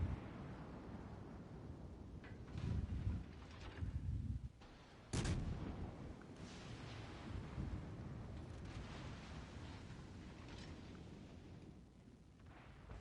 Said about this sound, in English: Hey, he's firing at me.